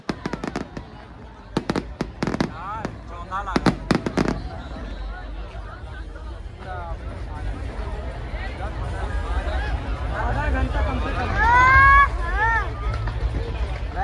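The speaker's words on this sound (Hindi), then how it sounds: "अब इसके बाद चलिए हम लोग देखते हैं पटाखों की आतिशबाजियाँ" Fireworks crack and pop in sharp bursts, followed by whistling rockets, with a crowd chattering and cheering underneath, at the Deepotsav festival in Ayodhya.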